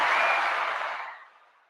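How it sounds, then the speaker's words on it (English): Audience applause for a guest on a talk show about therapy, a bright wash of clapping that starts full and fades away over under two seconds, with no voices over it. "Another round of applause"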